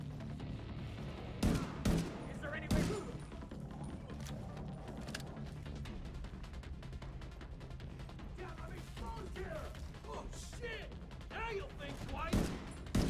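Rapid bursts of gunfire from The Division 2 multiplayer crackle in a dense, continuous barrage with several sharp louder shots, mixed with game effects and a voice talking over the action.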